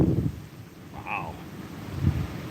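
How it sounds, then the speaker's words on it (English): Strong, gusty outdoor wind buffets the microphone in low rumbling bursts at the start and end, with a brief thin whistle between them. "This is some insane wind."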